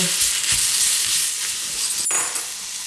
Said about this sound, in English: I'm going to fry this until this starts to wilt in the pan.